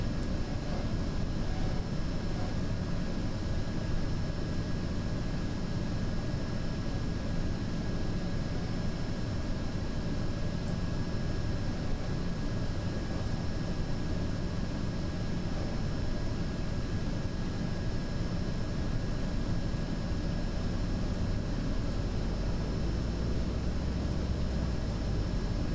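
Steady broadband drone of an airplane engine in the X-Plane flight simulator game, a constant even roar with faint tonal whine, running alone for the whole stretch without talk.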